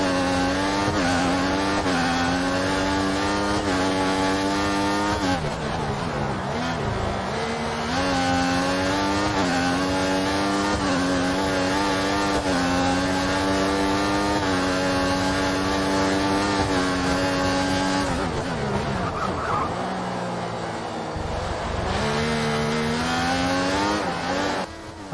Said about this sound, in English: let's just listen to those gorgeous V8 engines